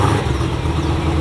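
A stock-exhausted 1000HP Dodge Durango Hellcat engine rumbles into life, a deep, rough low-end churn that carries loudly and steadily through the short moment.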